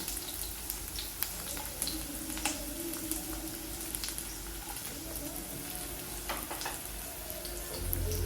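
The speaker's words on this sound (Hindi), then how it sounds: "तो इसमें अब हम डाल देंगे एक मीडियम साइज की प्याज और इसको सॉफ्ट होने तक फ्राई" A medium onion fries in hot oil in a kadai, a soft low sizzle dotted with scattered crackles and small pops, swelling slightly near the end, no voices.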